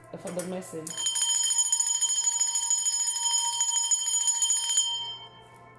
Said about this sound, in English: I'm actually going to ring the bell